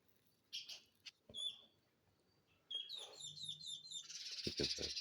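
A flock of sparrows gives short, scattered chirps and tweets, faint and outdoors, with a denser burst of chirping near the end.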